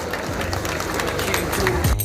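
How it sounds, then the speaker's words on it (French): A crowd at the Paris-Nice cycling stage finish applauds in a dense, continuous patter of clapping for the new best-climber leader, mixed with hubbub and nearby voices. "Une salve d'applaudissements pour le nouveau leader au classement du meilleur grimpeur, Jesus Herrera Lopez."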